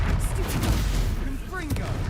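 Confringo fire spell bursts in the Hogwarts Legacy video game, a quick run of booming blasts and crackling impacts layered over battle noise, with a voice speaking briefly over it.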